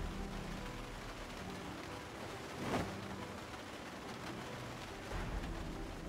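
Rain in the zombie survival video game Project Zomboid, a steady soft hiss of falling rain that stays even throughout, quiet and continuous with no voices over it.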